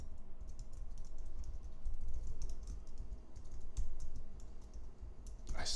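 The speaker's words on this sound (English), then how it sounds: "I swear I'm not this bad at typing." Rapid typing on a computer keyboard, a steady stream of light clicking keystrokes with a few sharper taps, close and alone with no speech.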